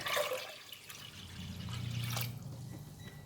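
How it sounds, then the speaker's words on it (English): Water pours into a cooking pot for barley water, a short gushing splash that swells and then fades over a few seconds, heard close with no voices. "Put in 2 liters of water."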